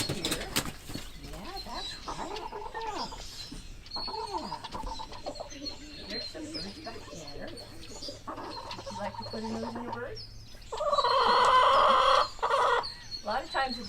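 Chickens cluck and squawk around the coop, with a burst of loud flapping and agitated calls near the end; some faint talk in the background.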